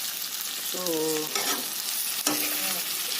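Assamese-style pork curry with ginger, garlic, cumin and jaluk fries and sizzles steadily in a pan while being stirred, with a few scraping strokes of the spoon over the constant hiss.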